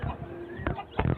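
Month-old Fayoumi chickens cluck and chirp softly in short bursts near a voice that talks over them.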